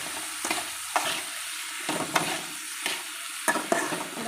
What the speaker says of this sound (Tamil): போட்டுட்டு லைட்டாக வதக்கி விட்டுருங்க.